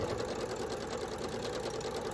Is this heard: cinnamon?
no